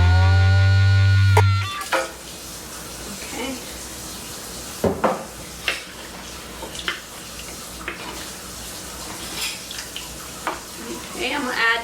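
Tomato sauce goes into a simmering kidney bean stew, followed by soft sizzling and scattered utensil clinks against the pot, after an opening tonal hum and under light talk.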